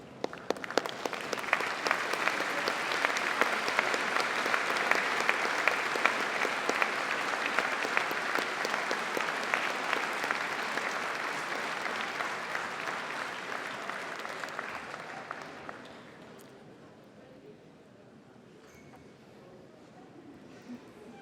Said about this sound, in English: join me in giving them a well-deserved round of applause